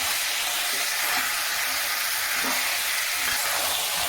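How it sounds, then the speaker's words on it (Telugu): Masala frying in oil in a pan for a field bean curry, producing a loud, dense, unbroken hiss and crackle up close, with faint stirring knocks beneath and no talking. "ఇవన్నీ వేగినాయి కదండి, కొంచెం ఆయిల్లో ఇప్పుడు మసాలా వేసేసుకున్నాము"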